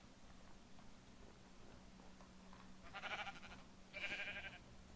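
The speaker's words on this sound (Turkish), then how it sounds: "Aa koyun var." Two short Minecraft sheep bleats sound over a low steady hum, the second slightly louder, with quiet background between them.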